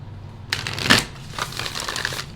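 Tarot cards riffle through a shuffle, a quick papery flutter peaking in a brief burst then trailing off into softer rustling, close and moderately quiet with no talking.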